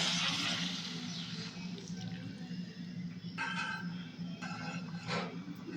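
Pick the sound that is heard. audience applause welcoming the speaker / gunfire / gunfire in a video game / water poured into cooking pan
water poured into cooking pan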